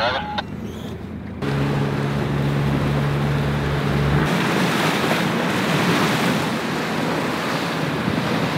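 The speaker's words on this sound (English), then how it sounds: "This is a real treat because we're getting to go out in Bill's boat" A rigid inflatable boat motoring on the open sea, a steady engine drone beneath rushing water and heavy wind buffeting the microphone, loud and continuous throughout with no speech.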